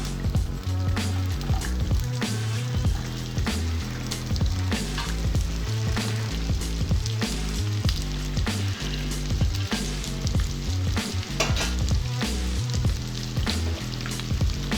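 Okra pieces fry in hot oil with peanuts and cashews, giving a steady, dense sizzle with crackles and occasional stirring scrapes throughout, with no talking.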